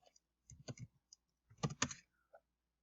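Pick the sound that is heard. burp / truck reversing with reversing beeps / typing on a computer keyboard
typing on a computer keyboard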